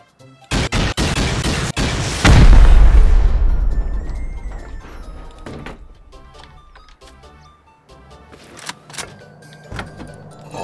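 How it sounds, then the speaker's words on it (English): Rockets fired in the game Rust: several quick sharp blasts, then one heavy close booming explosion that rolls off slowly, followed by scattered thuds and clicks. "And shoot 6 rockets."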